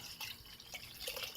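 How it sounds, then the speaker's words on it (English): Vinegar poured into a jar, heard as a close, continuous liquid trickle with small splashy drips over a quiet background. "I pour the vinegar in the jar,"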